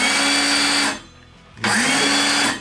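Old cordless power tool wired to a DeWalt battery whirs loudly, stops for about half a second, then spins up again at full speed, close and with no talking.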